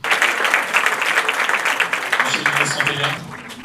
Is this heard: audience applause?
yes